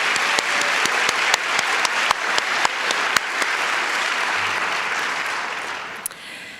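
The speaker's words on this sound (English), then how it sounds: "let's go ahead and clap" A large crowd at a white coat ceremony at Wake Forest University School of Medicine applauds steadily, the dense clapping holding for several seconds before tapering off near the end.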